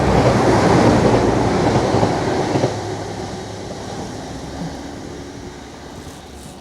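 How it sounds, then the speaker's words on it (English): A train rumbles past close by, loud at first and gradually fading as it moves away, with a steady rolling roar throughout. "Oh, there's a train coming."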